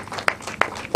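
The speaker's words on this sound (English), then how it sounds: "let's keep clapping" Three sharp, evenly spaced hand claps at a certificate presentation during a mentorship event, faint and isolated against quiet room tone.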